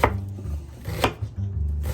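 Onions are chopped with a Nakano knife on a board in quick, close, crisp knocks, about four or five cuts in two seconds, with no talk.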